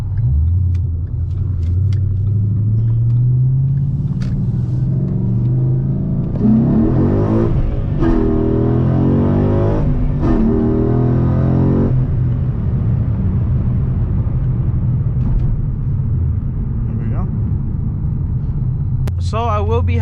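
A 2011 Mustang GT running on E85 rumbles, then pulls hard. A loud engine rises in a strong burst of acceleration with quick gear-change breaks, then settles back to a low cruising rumble, with a brief voice near the end.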